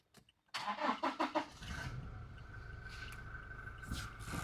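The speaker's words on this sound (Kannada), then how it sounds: "ಗಾಡಿ ಚಾಲೂ ಮಾಡೈತ್ರಿ. ಇಂಜನ್ ಸೌಂಡ್ ನೋಡ್ರಿ ಎಷ್ಟು ಸ್ಮೂತ್ ಐತಿ." A Toyota Innova Crysta starts with a few sharp cranking bursts, then settles into a steady, smooth idle close by, with no talking.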